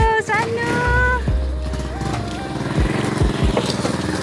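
A motorcycle engine runs steadily at idle outside a house, a droning hum with a few revs, while people talk over it.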